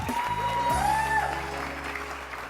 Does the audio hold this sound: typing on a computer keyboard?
no